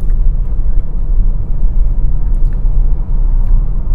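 A Tata Altroz XE hatchback cruising at moderate speed through city traffic on a rough, potholed road, its steady low rumble of engine and tyre noise continuous and close throughout, with no voices.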